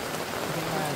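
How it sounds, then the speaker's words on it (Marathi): Rain falls steadily on an outdoor cricket ground, a dense even patter over one second with no other sounds standing out. "पाहताय रिंगण्यात आता पाऊस पडायला लागलाय."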